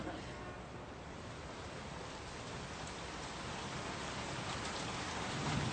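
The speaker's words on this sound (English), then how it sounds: "Hey, it's raining." Steady rain falling, a dense even hiss of drops that swells slightly louder toward the end, with no other sounds standing out.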